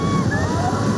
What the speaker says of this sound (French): Les grandes vagues et comment les gens surfent dessus